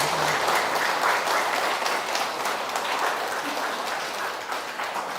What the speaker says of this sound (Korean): 그럼 이제 멋진 강의해 주신 두 분께 박수로 환영하겠습니다